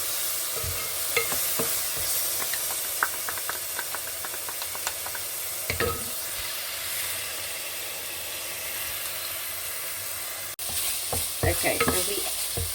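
Browning onions with ginger and garlic paste sizzle in a hot pan, a continuous frying hiss broken by scattered stirring scrapes and clicks.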